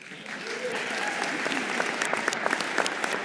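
Applause from an audience at a college presidential inauguration ceremony builds steadily into a dense, continuous clapping that grows slightly louder toward the end.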